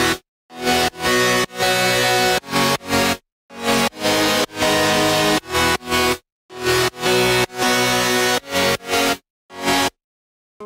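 Distorted synth chords with overdrive and sidechain volume pumping, programmed in FL Studio, play in loud rhythmic stabs that cut to silence between hits, forming a repeating chord pattern with no voice over it.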